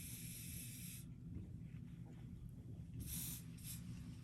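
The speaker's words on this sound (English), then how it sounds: "then I spray them a little bit with some hairspray" Hairspray hisses from an aerosol can over a small raffia-tied craft piece: a close, steady spray of about a second, a pause, then two shorter bursts, with no talking.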